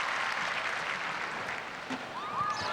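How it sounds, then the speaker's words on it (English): A crowd at the Spruce Meadows show jumping grounds applauds a rider's round, a steady, moderately distant patter of clapping with faint bird-like chirps near the end. "Listen to the crowd here at Spruce Meadows applauding the efforts of John Anderson"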